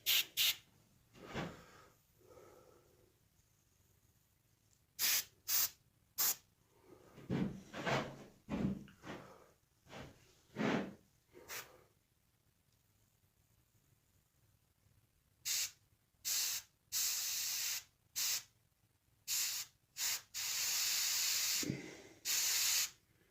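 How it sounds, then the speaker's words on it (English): An airbrush spraying paint onto the eyes of a coyote taxidermy mount gives short, sharp hissing bursts separated by quiet pauses, with a few longer sprays near the end. Each burst is close and crisp. "I kind of like a little bit using the airbrush better on the eyes"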